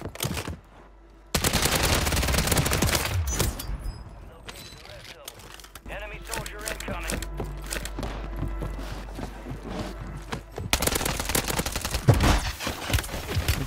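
Bursts of automatic gunfire and single shots crackle through a Warzone 3 match in Urzikstan, dense and loud across most of the stretch, with game effects and a player talking over the shooting.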